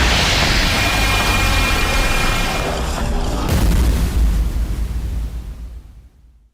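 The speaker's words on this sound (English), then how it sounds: "the beams collide, leading to a massive explosion" A massive explosion from colliding energy beams in a Godzilla monster film, a loud sustained booming roar that swells midway, then tails off into silence.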